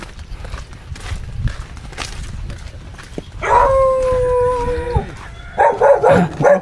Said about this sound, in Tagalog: May aso, ah.